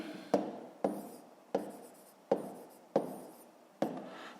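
Pen writing by hand on paper while working a fifth-grade math exercise, six sharp taps each followed by a short scratchy stroke, close and evenly spaced, with no talking.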